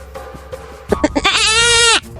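A single goat bleats loudly and close for about a second, a long wavering cry following a few shorter grunting calls, with quiet background noise before it.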